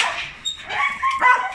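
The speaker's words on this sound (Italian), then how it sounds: "Un setterino, un cane che ha bisogno di fare moto." A young setter at a dog shelter whines and whimpers eagerly in short rising yelps, close and fairly loud, wanting to go out.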